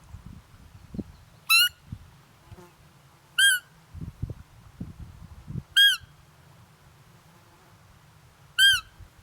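A Nordik roe call blown to mimic a roe deer fawn's contact squeak: four short, high, thin squeaks spaced a couple of seconds apart, close and clear over faint low rustling.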